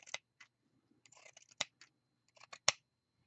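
Scissors snipping material for an art doll, with several sharp, separate cuts spread unevenly over a few seconds, close and fairly quiet with soft rustling between.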